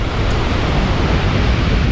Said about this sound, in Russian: И волны.